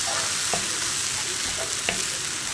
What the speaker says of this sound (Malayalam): അതുവരെ നമുക്ക് ഹൈ ഫ്ലെയിമിൽ വെച്ച് തന്നെ ഇളക്കി കൊടുക്കാം.